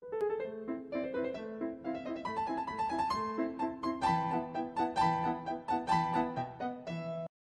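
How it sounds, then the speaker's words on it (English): Solo piano plays the opening of Mozart's Piano Sonata No. 11, a clear, measured melody over steady chordal accompaniment, moderately soft and uninterrupted for several seconds. "I basically choose the beginning of Mozart, Piano Sonata number 11"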